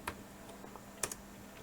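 A few soft, sparse keystrokes tap out the short command make on a computer keyboard, quiet and close with small gaps between the clicks.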